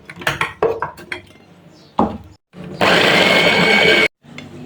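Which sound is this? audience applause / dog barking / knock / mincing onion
mincing onion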